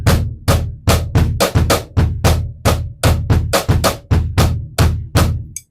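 Snare drum and bass drum play layered rhythms together, sharp cracking hits over deep thumps in a steady syncopated pattern, loud and close with no voices.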